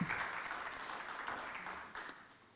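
Faint applause from a conference audience after a talk on the European audiovisual industry, a soft continuous patter of clapping that tapers off over a couple of seconds.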